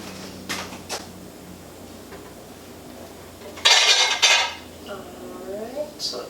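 A bowl of cheese curds is carried over to a sink in a home kitchen, with a few scattered light knocks, then a loud burst of clattering dishes and ceramic scraping up close, followed by softer clinks.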